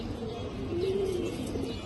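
A Bagha silver pigeon with booted feet gives a single low, drawn-out coo close by, against a faint steady background.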